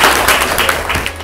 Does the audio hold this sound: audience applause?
yes